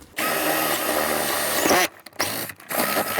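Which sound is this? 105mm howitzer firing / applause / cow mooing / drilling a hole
drilling a hole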